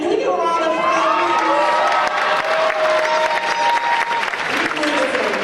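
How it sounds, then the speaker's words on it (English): Graduation audience breaks into applause for the school's dean, a dense, steady wash of clapping with cheers and whoops mixed in, loud and close throughout. "Can we get a round of applause?"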